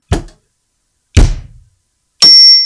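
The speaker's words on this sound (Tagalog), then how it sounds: "Hanggang sa mapakinggan natin yung parang tunog ng munting bell." Clifton MX310 electronic drum kit during calibration: two dull thunks are followed by a short, bright, ringing bell-like tone with a sustained high pitch, all sounding close and clear with no talking.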